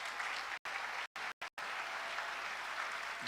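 A church congregation claps to acclaim the Lord. The applause is loud, steady and close, broken by a few abrupt gaps.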